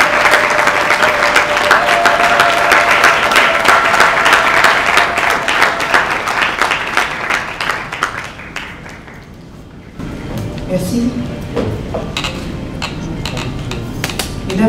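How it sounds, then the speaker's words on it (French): An audience at a hotel ceremony applauding warmly to welcome a speaker, dense sustained clapping that thins and fades after several seconds, then a softer room murmur with scattered claps. "s'il vous plaît, des applaudissements très bien mérités."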